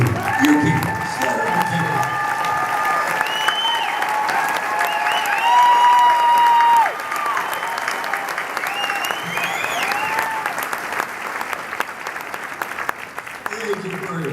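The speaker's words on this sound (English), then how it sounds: "Would you give a big round of applause" An audience at a show applauds loudly and steadily for a full stretch, with some cheering mixed in and musical tones sounding faintly beneath the clapping.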